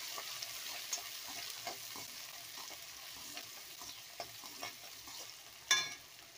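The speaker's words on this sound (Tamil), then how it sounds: "நல்லா 1 முறை கலந்து விட்டுக்கலாம்" Finely chopped onions frying in a pan for a cluster bean curry, a soft steady sizzle broken by faint, scattered spoon scrapes and one sharper clink near the end.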